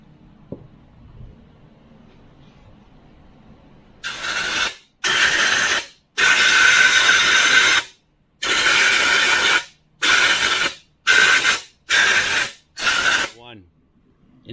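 A hand tool cleans the injector sleeve sealing surface on a 7.3L Powerstroke diesel engine. It makes about eight loud, close bursts of hissing, grinding noise separated by short pauses, after a quiet start with faint low talk.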